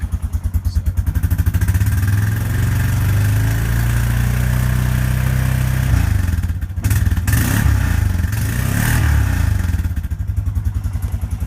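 A Honda TRX 500 FM ATV engine idles steadily with a low, pulsing rumble, then revs and clatters briefly before settling back, loud and close throughout, with no talk.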